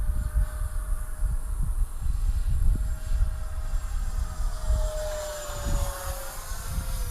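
E-flite FJ2 Fury RC model jet flying at full throttle: a faint, thin whine that holds steady and then slowly falls in pitch as the model passes, over low outdoor wind rumble.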